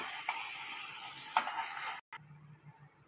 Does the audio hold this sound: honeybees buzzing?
no